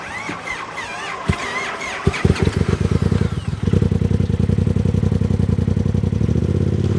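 A Polaris RZR side-by-side engine cranks with a few sharp turnover pulses, then catches and runs with a loud, steady, fast mechanical beat close by, idling on evenly to the end.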